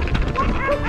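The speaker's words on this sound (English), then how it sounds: "Protecting us from all these vicious dogs." Dogs bark and yip in a brief cluster along a cycling route through Serbia on the Eurovelo 6, heard amid wind noise and overlapping talk.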